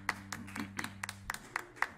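A small audience at a live music showcase claps for the guitarist, with a handful of sharp, scattered claps in an uneven rhythm over a faint low musical hum, fairly quiet and sparse.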